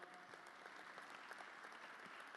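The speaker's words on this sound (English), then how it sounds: "I noticed some folks clapped" Audience clapping at a President Obama speech, a soft, scattered patter of many hands that sounds distant and faint and lasts a couple of seconds.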